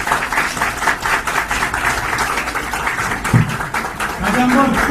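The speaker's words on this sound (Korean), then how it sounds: "다시 한번 뜨거운 박수 부탁드립니다." Audience applauding at a political party event for the inauguration statement of an emergency committee chairman, rapid dense clapping that continues steadily throughout, with a brief voice near the end.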